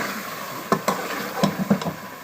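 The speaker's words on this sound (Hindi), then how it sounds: "अब गोश्त को हमने अच्छे तरीके से भून लेना है।" Mutton for potato mutton (aloo gosht) browning in a pot: a soft, steady sizzle punctuated by several sharp clattering knocks of stirring against the pot.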